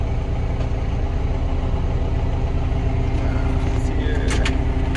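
The engine of a John Deere 6420 tractor runs steadily at idle, a loud, close, continuous diesel rumble that holds even throughout. Faint higher clanks and squeaks sound near the end, and no one talks.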